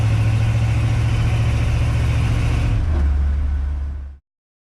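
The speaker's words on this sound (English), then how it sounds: "you can hear the engine more when you step on it to get it up to speed" A 1965 Jeep Wagoneer engine hums low and steady, close by, shifting slightly in pitch as it revs up to speed before cutting off abruptly.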